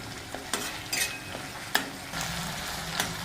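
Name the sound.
tomato and curry leaves crackling while frying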